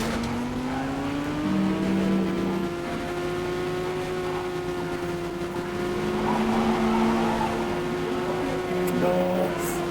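A car in a GTA roleplay game drives and revs, its engine drone rising and falling in pitch with throttle changes, steady and fairly loud, with a few brief squeal-like tones over a constant background wash.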